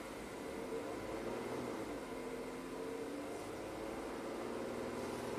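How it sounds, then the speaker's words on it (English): A 2015 Jeep Grand Cherokee Pentastar V6 with a cylinder 2 misfire runs as the throttle is raised slightly, giving a faint, steady engine drone with a low hum that stays even throughout. "I'm going to raise the throttle a little bit."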